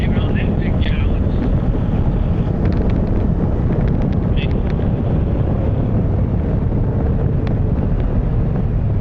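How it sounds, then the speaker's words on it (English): Heavy side wind roars across the microphone of a 2026 Kawasaki KLE 500 SE on the road, a loud, dense, unbroken rumble with engine drone mixed in, while a rider talks over it. "this freaking side wind is crazy"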